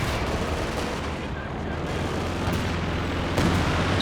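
An artillery strike in Company of Heroes 2 lands as dense rumbling blasts and gunfire, loud and continuous, ending with a sharper explosive hit.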